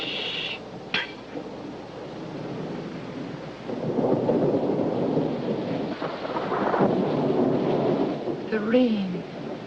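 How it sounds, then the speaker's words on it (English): Rain falls steadily with rolling thunder in an old television drama, a low rumbling swell building from a quieter start and lingering, with brief clinks and faint voices nearby. "Shh, wait. It's rain."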